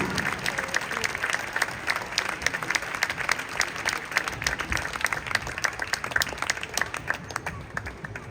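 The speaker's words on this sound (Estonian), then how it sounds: "Väga mõnus ja aplaus ja veel kord aplaus." A Christmas concert audience applauds steadily and densely for several seconds, many hands clapping in a hall at an even, sustained level.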